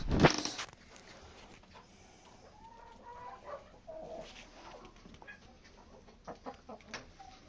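Adler breed hens cluck and call in a poultry yard, scattered short clucks and a few drawn-out notes at moderate distance, with a sharp knock at the start.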